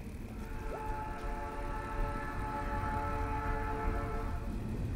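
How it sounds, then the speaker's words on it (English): Train rolling past with a long sustained horn blast in the video game Night in the Woods, a steady rumble under layered horn tones holding loud and near throughout. "I didn't realize how much I missed the sound of that train."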